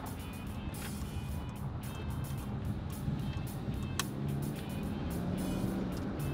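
Steady engine and road noise from inside a Buena Park police car driving down a street at night, a continuous low rumble with faint high tones and occasional brief clicks, no talk.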